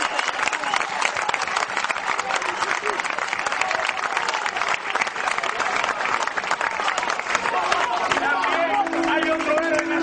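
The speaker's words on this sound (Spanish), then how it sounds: "Otro aplauso." A crowd at an outdoor Kabyle Amazigh protest in the Canary Islands applauds in a dense, sustained clapping that stays loud for about ten seconds, with voices in the crowd underneath and a shout near the end.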